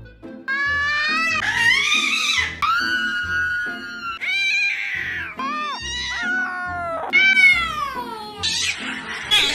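An upset cat on a plane meows loudly and caterwauls nonstop, a string of close, drawn-out wailing yowls that rise and fall in pitch.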